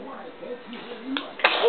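A small child sneezes once near the end, a sharp broadband burst standing out over quiet room noise and soft, low murmurs during a feeding.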